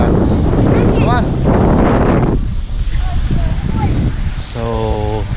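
Steady, loud wind rumble buffets the microphone throughout at Australia Zoo, with a voice speaking over it and a brief whistle-like tone near the end.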